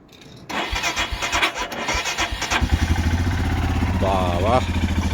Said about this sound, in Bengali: এখন একটু কোল্ড স্টার্ট করি।